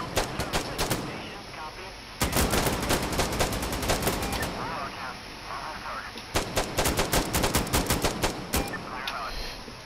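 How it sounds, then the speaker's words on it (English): Rapid bursts of automatic gunfire from an airstrike gun run in Insurgency Sandstorm, loud sustained strafing volleys with brief gaps between long rattling streams. "Listen to that gun go brrr."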